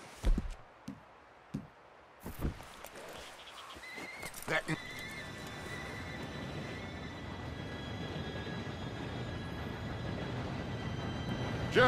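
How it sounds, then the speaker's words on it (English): A train approaching in the game Red Dead Redemption 2 as a low rumble that builds steadily and grows louder, with a thin whistle-like tone above it, preceded by scattered horse snorts and hoof knocks nearby. "Train should be here any minute now."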